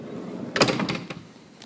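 The sliding side door of a Ford Grand C-Max rolls along its track in one quick, close movement, a brief scraping rush that ends in a soft knock and then fades.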